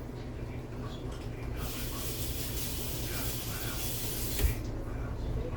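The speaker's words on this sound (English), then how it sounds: "let me rinse my fingers real quick" Water from a kitchen tap runs steadily as fingers are rinsed under it, a continuous broadband spray-like hiss lasting most of the stretch, close and fairly loud with no talking.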